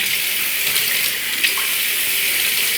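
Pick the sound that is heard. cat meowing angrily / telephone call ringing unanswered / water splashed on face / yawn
water splashed on face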